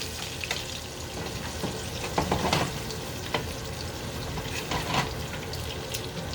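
Burgers sizzle in a pan of hot grease with a continuous crackling hiss, as a metal spatula scrapes underneath to lift them free of the bottom, giving a few sharper scraping clicks over the frying, close and with no talking.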